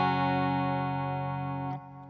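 A sustained guitar chord rings through a Toneforge Misha Mansoor preset with delay and reverb, holding steady and then cut off near the end, leaving a faint decaying tail.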